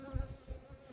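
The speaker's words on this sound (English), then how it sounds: "they are all over me right now, all over my face, landing all over my hands." Honey bees buzz close around a beekeeper, their faint wingbeat drone pulsing as individual insects pass near.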